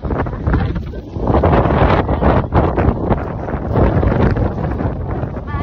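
Strong wind gusting on Kapurpurawan beach in Ilocos Norte, a loud, continuous roaring buffet across the microphone that swells and dips without pause.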